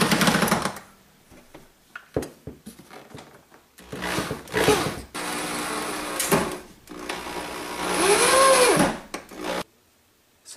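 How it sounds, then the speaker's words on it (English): A power drill drives screws into brackets while faux wooden blinds are being installed, with several whirring bursts of varying length and a longer run near the end, close and loud with no talk. "it's a little easier with a drill if you have one"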